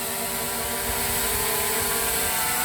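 A small SJRC F22S quadcopter drone hovers and flies over a mine site, giving a steady, continuous whirring buzz of spinning propellers with a broad airy hiss, unbroken and fairly close.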